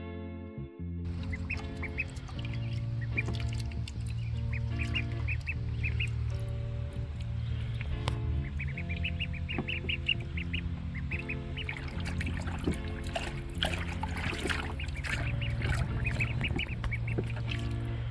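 Pet ducks quack repeatedly in a steady, busy chorus close by, their nasal calls overlapping over a constant low background hum for the whole stretch.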